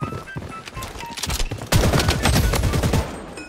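Rapid automatic gunfire from a bot in the shooter game Blood Strike crackles in bursts. It grows louder and denser midway through, with overlapping shots sounding close.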